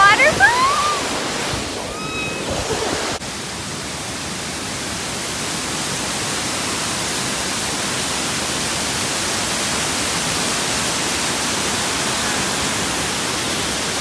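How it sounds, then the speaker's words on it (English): Waterfall on the Pacific Crest Trail, a steady broadband roar that fills the scene, loud and close; a voice speaks briefly over it at the start before the rushing water continues alone. "I love waterfalls"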